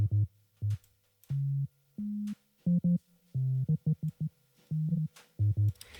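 Short, punchy low bass notes hop between a few pitches in a choppy, stop-start pattern, with gaps of near-silence between them, fairly quiet and alone.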